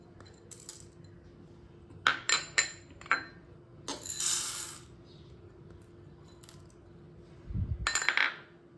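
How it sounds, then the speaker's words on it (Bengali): Two bowls of split chickpeas (chana dal) poured into a bowl for Bengali dal puri, heard as a series of short, sharp rattling clinks and a few longer grainy pours, close and fairly quiet with no talk. "এই দু বাটির ছোলার ডাল আমি ঢেলে দেবো।"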